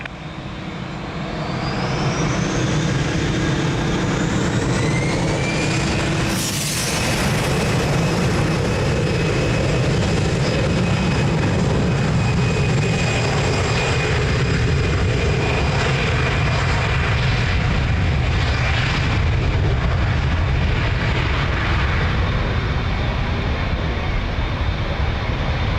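An airliner takes off from runway 02 at Lisbon Airport, its jet engines building to a loud, sustained roar with a rising whine that holds steady for the whole run, with no talk.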